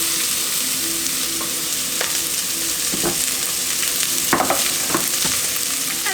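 Onions and garlic fry in a pot for a stracotto al porcino, with a constant loud sizzle and occasional sharp stirring clicks and scrapes.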